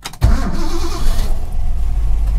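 A 1969 Mustang Fastback with a 427 FE V8 and no choke cranks briefly and catches, bursting into a loud, rumbling idle close by.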